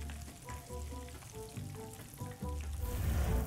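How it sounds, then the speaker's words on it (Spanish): Ripe plantain slices frying in hot oil while chicken Cajun is being prepared, giving a steady close sizzle with a crackling burst near the end; no one speaks. "Ahora vamos a freír"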